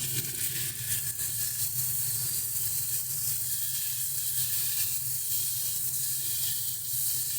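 Diced potatoes tossed with ground coriander, cumin and salt sizzle steadily in a hot pan, a continuous close frying hiss with soft stirring and no voices.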